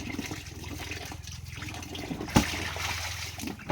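Water runs and splashes as salted food is rinsed, a continuous close trickling and pouring with a brief sharper splash partway through, no voices.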